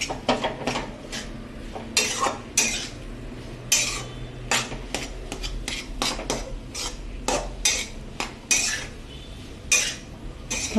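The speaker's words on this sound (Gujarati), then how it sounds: "આપણે મહાપ્રસાદ બનાવીએ તે જ રીતનો રવો શેકવા દેવાનો છે." A metal spoon stirs semolina roasting in ghee in a pan, scraping and clinking against the metal in irregular strokes over a faint background, with no talk.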